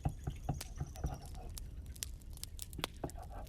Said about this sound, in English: hear the drops of water